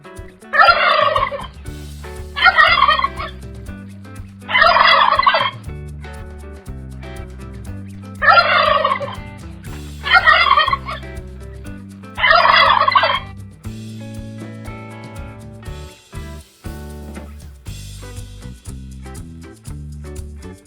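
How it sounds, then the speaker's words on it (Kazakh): A domestic turkey gobbles six times in loud, rapid rattling bursts separated by short pauses, with faint background sound between calls. "Күрке тауық, индейка."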